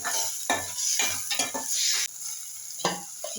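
Spinach frying dry in a pan for a Marathi-style palak bhaji, the sizzle broken up by several rhythmic bursts of stirring and scraping, close and fairly loud, with no talking.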